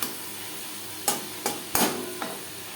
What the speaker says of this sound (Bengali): লবণ হলুদ বেশ ভালো করে মিক্স করে দেবে